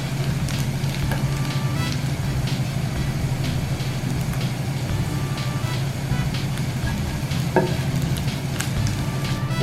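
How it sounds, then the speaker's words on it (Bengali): Chopped onion and garlic fry in a pan with a steady, close sizzle and occasional stirring taps, continuous and moderately loud. "পেঁয়াজগুলো একটু ভেজে নেওয়ার পরে আমি রসুন কুচিগুলো দিয়ে দিয়েছি।"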